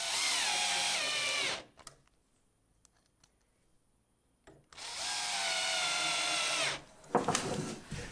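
A power drill drives screws into wood in two long, loud whirring runs of a few seconds each, with a quiet gap between them and a short final burst, close up and without talk.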